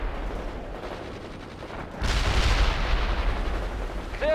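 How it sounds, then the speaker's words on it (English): Rocket launchers fire in the World in Conflict strategy game, a sudden loud roaring blast after a quieter rumble, then a sustained rushing barrage. "Fire some rockets."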